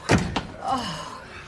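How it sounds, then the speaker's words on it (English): A door is shut indoors in a sitcom home: a sharp close thump followed by a softer knock, then a brief voice under the fading sound. "Oh, close that door."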